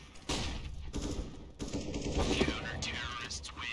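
Bursts of gunfire in Counter-Strike: Global Offensive, several sharp shots and short rattles scattered across a few seconds amid game noise, with a brief electronic tone in the middle.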